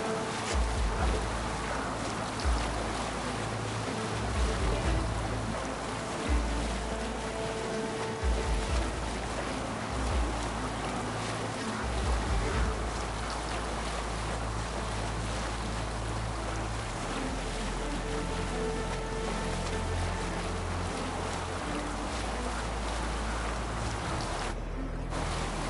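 A sailing longship cuts across the open sea in Assassin's Creed Valhalla, with steady rushing water and wind swelling and falling in long waves, sustained and full throughout with no one talking.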